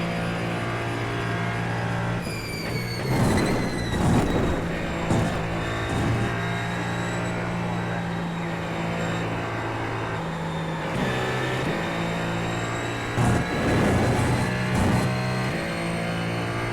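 Ferrari 499P race car engine in the iRacing simulator holds a loud, steady high-pitched drone with layered harmonics, broken by a few gear shifts and brief bursts of revving.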